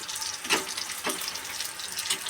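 Tempering for dal frying in a pan, a soft continuous sizzle with gentle swells as the spices are stirred.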